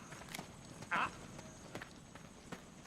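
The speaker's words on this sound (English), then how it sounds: "Footsteps." Footsteps in the Metal Gear Solid 4 video game: a few sparse, soft steps spaced irregularly, with one brief louder scuff in between, over a quiet background.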